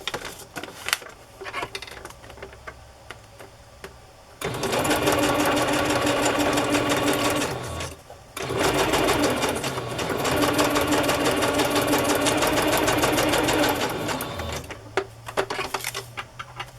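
A sewing machine stitches fabric pieces and pockets onto a rustic journal cover, running in two long, loud, steady whirring bursts separated by a brief stop, with quieter handling and clicks before and after.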